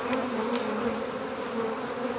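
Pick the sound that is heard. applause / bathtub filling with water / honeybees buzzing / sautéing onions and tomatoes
honeybees buzzing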